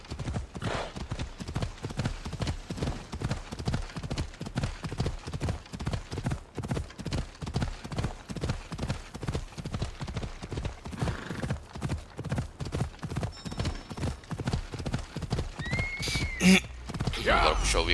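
A horse gallops in the video game Assassin's Creed Odyssey, its hooves beating a fast, even, close clip-clop that runs steadily throughout, with a short whinny near the end.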